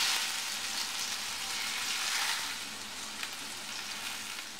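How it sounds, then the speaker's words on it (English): Fish pieces frying in a pan give a steady, close hiss and crackle of hot oil that stays even throughout with no talking. "so frying the fish pieces."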